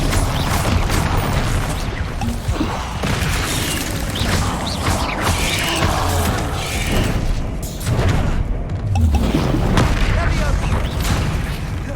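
Bombarda blasting spells go off repeatedly in Hogwarts Legacy combat, loud booming impacts and crashes layered over dense game effects, with character voices calling out spells.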